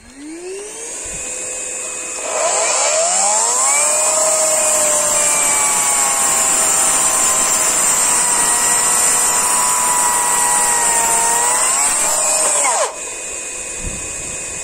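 A Parkside Performance 20-volt cordless miter saw spins up with a rising whine alongside a loud, steady dust vacuum roar, running continuously for several seconds before both abruptly cut off.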